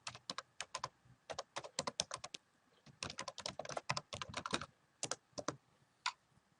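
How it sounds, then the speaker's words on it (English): Computer keyboard typing into a search box, heard as quick bursts of crisp keystrokes separated by short pauses, with a longer dense run in the middle, close and clear with no talking. "I'm going to type in"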